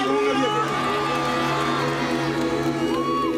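A church congregation at a grand Christmas rally raises a loud, continuous roar of shouting and cheering, with many overlapping voices calling out hallelujah together.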